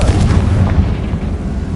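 A Confringo spell in Hogwarts Legacy on PlayStation 5 bursting as a loud, close, fiery explosion with a heavy boom and a rumbling tail that fades over a couple of seconds.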